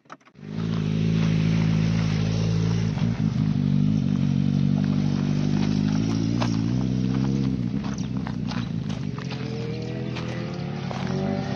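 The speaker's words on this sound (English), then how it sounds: "Big bikes coming in." Large motorcycles and other road traffic roll past on a highway, a steady loud engine rumble with shifting revs that holds for about eleven seconds without anyone speaking.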